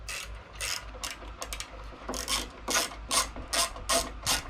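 A ratchet wrench loosens the 8mm side cover bolts on a Monster Moto minibike, making close, rapid metallic clicking in repeated short bursts that come faster toward the end.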